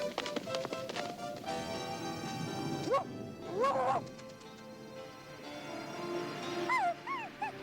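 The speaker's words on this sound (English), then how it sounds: "Who's got a dog?" A cartoon dog from Rainbow Brite barks and yips in short bursts over a music-like background, with a couple of whimpering calls near the end.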